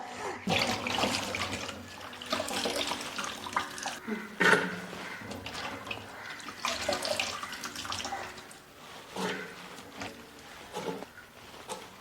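Tap water runs steadily with splashing and clattering as jackfruit is rinsed under it, with a sharp knock partway through.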